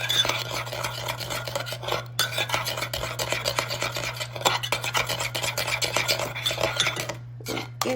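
Cake batter with a splash of vinegar, for a Seven-Up cake, being stirred in a bowl, giving a steady, continuous scraping and clinking of a utensil against the bowl with brief pauses, close and moderately loud under a constant low hum.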